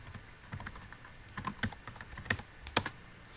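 Typing on a computer keyboard, a quiet series of crisp, irregular key clicks with a few sharper taps, close-up and with no voices.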